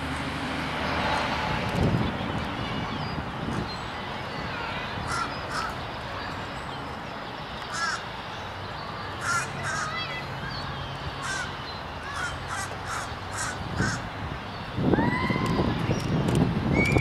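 Crows caw outdoors, several harsh calls spread across the stretch, some nearer and louder, over a steady bed of wind and background noise.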